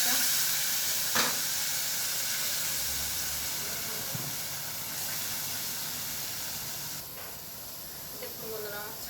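Chutney paste sizzles steadily in a hot pan, a continuous close hiss with faint crackles and a few light stirring knocks, no talk heard.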